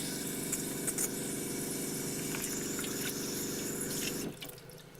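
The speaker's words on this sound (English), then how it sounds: "you will then hear the pump start to operate." A boat's freshwater pressure pump runs after a tap is opened, giving a steady electric whine with faint running water and drips, then cutting out abruptly near the end, leaving quiet background.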